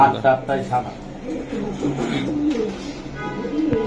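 Giribaz high-flying racing pigeons at a seller's loft in Old Dhaka coo with low, throaty, repeated calls nearby, partly under a voice talking over them.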